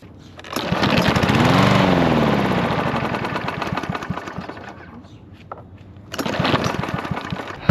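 A small gas lawn mower engine drones steadily nearby in spring in Edmonton, Alberta, rising then settling, then cutting out briefly before starting up again toward the end.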